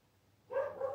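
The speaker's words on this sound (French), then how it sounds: "Il va y avoir un pigeon dans la cour, mon chien s'énerve." A dog indoors, agitated by a pigeon in the yard, lets out a brief muffled bark burst that sounds distant and fairly faint.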